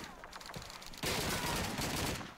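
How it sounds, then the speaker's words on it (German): Dense battlefield gunfire in the World War II shooter Call of Duty 2 during a house-to-house fight, scattered distant shots giving way to a loud sustained wash of rifle and machine-gun fire. "Schießen sie. Überall schießen sie."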